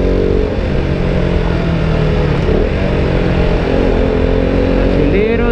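A KTM RC 200 motorcycle pulls hard in second gear, its engine droning loudly and steadily close by with continuous road and wind noise mixed in.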